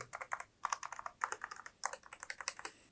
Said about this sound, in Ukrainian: Ось так звучить пробіл, ось так інші клавіші